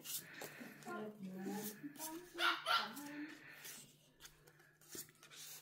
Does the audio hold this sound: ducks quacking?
no